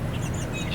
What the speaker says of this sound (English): Got a couple of birds up there